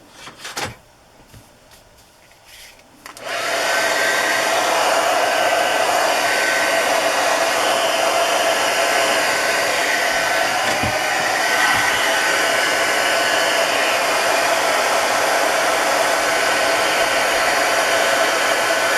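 A hair dryer blows steadily and loudly on homemade paper ephemera, switching on after a few seconds of quiet handling clicks and then running continuously with a constant airy roar.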